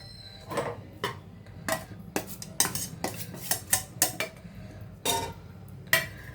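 Lemon-coconut rice with mustard being stirred in a pot, a spoon clinking and scraping against metal in a steady series of sharp knocks, close and fairly loud, with no talking.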